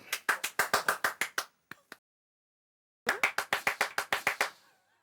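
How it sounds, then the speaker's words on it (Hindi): A group of people clapping in a quick, even burst of about a dozen claps, then two stray claps, a pause of silence, and another lively round that fades out; close and loud, no voices. "बजाओ ताली।"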